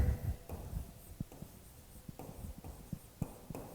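A definition being written out during a mathematics lecture on sequences and series: repeated short scratching pen strokes and taps at an uneven pace, close and moderately loud, with no speech.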